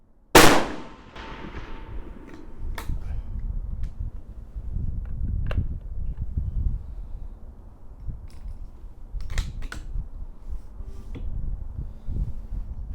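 Rifle firing to fire-form Alpha Munitions brass: one sharp, loud shot near the start, then lighter clicks and handling noises over a low hum.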